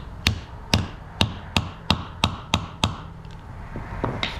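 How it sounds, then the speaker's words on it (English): A socket tapped against a block of wood to seat a VW 09G transmission valve body, giving about eight sharp, evenly spaced knocks followed by a few lighter taps, close and clear. "Just want to tap it around a couple times just to make sure."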